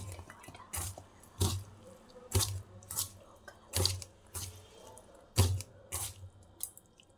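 Noodles being mixed by hand with chili sauce give a run of soft, wet squishing and slapping sounds in an irregular rhythm, close and fairly quiet.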